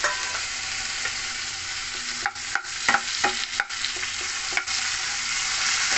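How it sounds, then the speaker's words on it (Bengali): Ginger and chopped tomato fry and get stirred in a pan for sabudana khichdi, with steady sizzling broken by several close, sharp scraping stir strokes and no talking. "ভালো করে ভেজে নিয়ে এর মধ্যে দিয়ে দেবো টমেটো, কুচিয়ে রাখা টমেটো"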